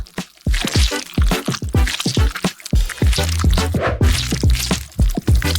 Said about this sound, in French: je vais faire fondre les bonbons. Je vais les mettre dans un moule spécial.